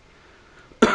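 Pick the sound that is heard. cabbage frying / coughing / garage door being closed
coughing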